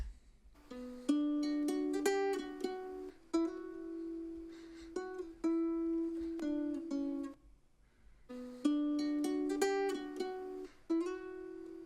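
A plucked Spanish-style guitar melody rises and falls in short phrases with brief pauses between them, bright and close, with no voices.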